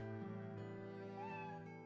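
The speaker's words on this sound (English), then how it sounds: "Sorry, it's my cat." A finely groomed black cat in Professor Layton vs Phoenix Wright gives a short, soft meow over a sustained, steady musical tone.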